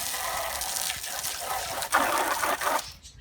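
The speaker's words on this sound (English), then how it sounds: "Hose it down." A garden hose sprays water onto surfaces for cleaning, a steady hissing splash that swells and shifts briefly near the end before cutting off.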